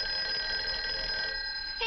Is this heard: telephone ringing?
yes